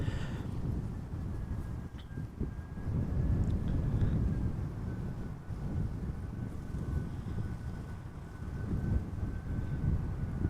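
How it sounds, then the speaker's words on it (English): A TAP Air Portugal A319 airliner from Lisbon touches down at Amsterdam Schiphol in crosswind, a steady low engine rumble with a faint whine, heard from a distance and continuous. "This is Top Air Portugal, arriving from Lisbon, A319, flight 674. Touching down after 2 hours and 20 minutes of flying."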